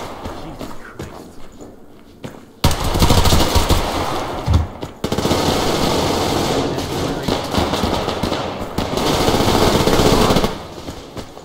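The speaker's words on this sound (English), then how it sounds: "I'm tagging a bunch of people with a sniper rifle. I'm tagging with a bunch of people with assault rifles." Sustained automatic gunfire from assault and sniper rifles in the shooter game Survarium, loud and close, in long rapid bursts with a brief pause, over quieter game ambience.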